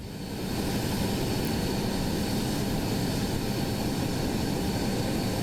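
An F-35 jet engine runs steadily in Microsoft Flight Simulator, a constant loud roar with a broad rumbling hiss that holds evenly throughout, with no talk.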